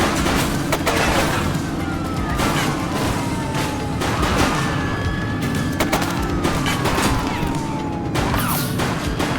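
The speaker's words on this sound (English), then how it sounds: "Shots fired! We need to end this! Open fire!" Gunfire in the police video game The Precinct, dense overlapping shots and bursts forming a steady fusillade with crashing impacts and a constant low rumble, loud and continuous throughout.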